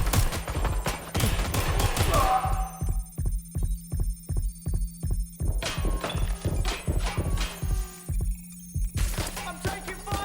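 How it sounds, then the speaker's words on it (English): Rapid automatic gunfire in the Watch Dogs Legion video game, repeated bursts of evenly spaced shots over a steady low hum, loud and close with brief pauses between volleys. "I'm taking fire."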